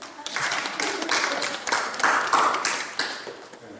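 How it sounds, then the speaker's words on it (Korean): Applause from a church congregation for their pastor after he built the church, a dense, steady wash of clapping lasting a few seconds at moderate loudness. "박수 한번 해드리죠"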